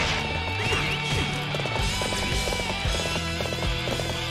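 Galloping horse in the video game Warriors Orochi 3, with rapid clip-clop hoofbeats, a whinny, and crashing battle hits layered over game music.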